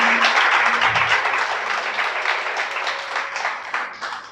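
A congregation claps during a Sabbath church sermon: sustained, dense applause from a room of worshippers that slowly thins and grows patchier toward the end.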